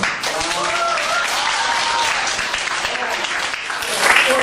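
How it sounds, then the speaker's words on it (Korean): Students at an international school history lecture in Hong Kong applaud together, a dense, steady wash of clapping that holds evenly throughout. "여러분 박수 한번 주세요"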